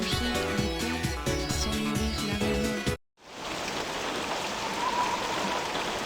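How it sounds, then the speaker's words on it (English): Rain storm in the video game Persona 3 Portable: after game music cuts off, a steady dense hiss of heavy rainfall takes over, continuous and fairly loud. "Alright, we got ourselves a storm."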